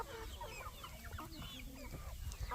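An Araucana chicken clucking on a homestead, a run of soft, close clucks and short calls over a steady low background rumble.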